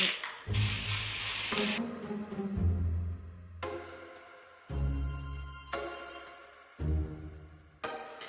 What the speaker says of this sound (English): we're getting ready to spray paint